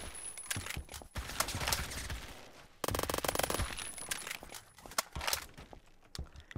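Kriss Vector submachine gun in Roblox Phantom Forces firing in rapid bursts, loud and close, with a dense stretch of sustained automatic fire midway and other game sounds around it.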